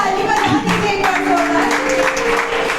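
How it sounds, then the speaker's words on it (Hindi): Audience at a shayari stand-up comedy show in Ayodhya clapping, a short burst of applause from a modest crowd with a voice ringing out over it. "जितने हैं उतने में जोर जोर ताली आएगी"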